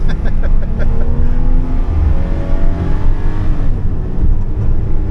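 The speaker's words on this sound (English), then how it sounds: "let's give her a little bit of a throttle workout" A 2003 GMC Envoy SUV engine revs hard under throttle, its pitch climbing and sweeping in loud, steady bands, close and with no one speaking.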